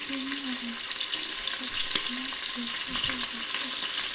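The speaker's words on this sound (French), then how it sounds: "Là, je vais rajouter du coup, hop là, mes oignons." Onions fry in a pan in a home kitchen, giving a steady close sizzle with light stirring scrapes, while a faint voice hums or murmurs underneath.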